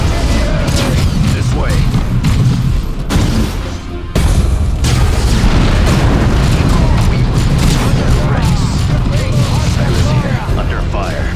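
Heavy explosions clear bunkers in the video game Dawn of War II, forming a dense continuous roar of booms and gunfire with a short dip near the middle. A brief spoken line sits under the loud battle.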